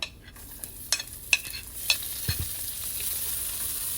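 Chopped garlic goes into hot oil with cumin and asafoetida, giving a steady close sizzle with a few sharp clinks and scrapes of stirring at the start.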